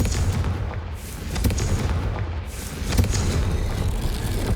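Explosive fire spell in a fantasy video game, rumbling booms rising over a dense, roaring background with a sharper burst near the end and sustained noisy rumble throughout.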